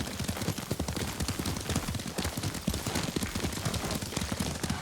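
Rapid, steady hoofbeats of a galloping horse in the video game Ghost of Tsushima pound on without pause, dense and rhythmic, with no voices.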